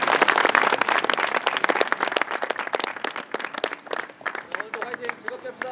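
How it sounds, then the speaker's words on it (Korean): A group at a sports team gathering applauds in congratulation for players picked for the national team, loud and dense at first, then thinning into scattered individual claps. "축하의 박수 한번 주고 갑시다."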